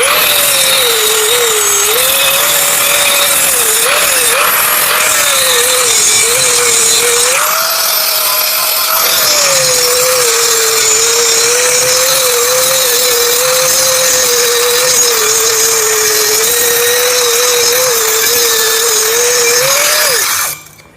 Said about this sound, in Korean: 자, 그러면은 지금부터 그라인딩 작업을 시작하겠습니다